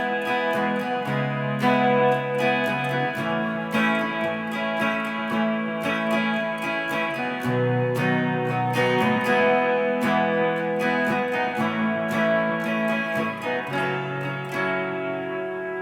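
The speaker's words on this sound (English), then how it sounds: "the chorus chords. Nice easy part of the song, it's just strumming chords." Guitar strumming the chorus chords of a song, steady rhythmic strums through changing chords, clear and close with no voices.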